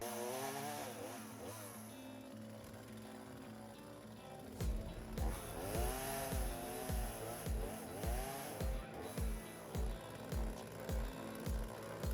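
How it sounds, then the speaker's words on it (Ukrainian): A motorized saw cutting wood buzzes in rapid repeated strokes, loud and close, starting after a few seconds of quieter engine idle. "Ну і зараз пилкою все швидко. Чик-чик-чик і зріжеться."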